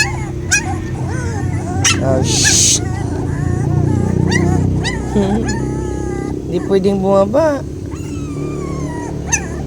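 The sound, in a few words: hungry puppies whining and yipping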